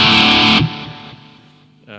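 A heavily distorted electric guitar, a Fender Classic Vibe Telecaster through a Boss GT-8 effects unit, blares at full volume for a moment, then cuts off and rings out into a fading, buzzing sustain.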